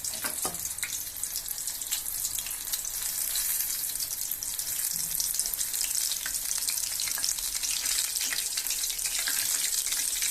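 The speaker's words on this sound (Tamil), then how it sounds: "மாவு எல்லா பக்கமும் கோட்டாகிற மாதிரி நல்லா டிப் பண்ணிவிட்டு எண்ணெயில் போட்டுக்கலாங்க" Agathi flower bajji, batter-coated blossoms deep-frying in hot oil, give a loud, steady, dense sizzle with crackling that runs unbroken throughout, with no talk.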